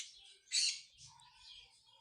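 Lovebirds give a brief, bright chirp followed by fainter, thin twittering, all quiet and somewhat distant.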